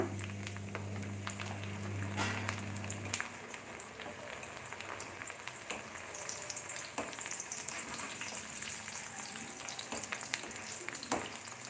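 Poha (flattened rice) being fried in a pan for dry fruits chivda, a steady crackling sizzle that holds throughout, with a few stirring clinks and a brief low hum near the start.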